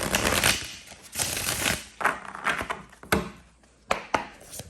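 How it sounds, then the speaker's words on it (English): A deck of tarot cards is shuffled by hand, giving a series of crisp riffling bursts and sharp taps at irregular intervals, close and fairly loud with no talking. "I'm going to put these back, shuffle the deck, and then shuffle again."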